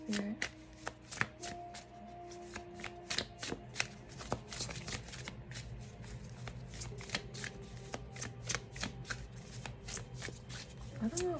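Tarot cards shuffled by hand during a reading, a long run of close, crisp riffling and slapping card sounds in irregular bursts, with soft ambient tones in the background.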